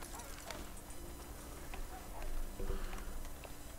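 Horse hooves clip-clopping in Red Dead Redemption 2, a few soft, uneven thuds from a horse being tied up, faint under a hissy ambient background.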